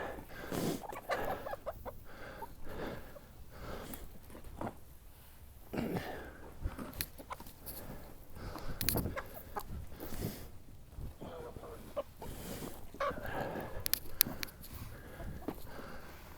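Chickens cluck and call in scattered bursts, moderately close, with some faint background noise throughout.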